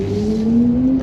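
A BMW iX xDrive50 electric car accelerates while its synthetic Hans Zimmer drive sound plays, a steady layered tone that climbs smoothly in pitch over a low road rumble, close and fairly loud.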